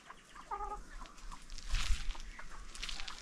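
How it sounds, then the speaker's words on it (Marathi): Colourful rooster at a farmyard, giving a few short clucks amid quiet outdoor background noise, fairly close but not loud. "हा अन्नाचा कोंबडा आहे, कलरफुल"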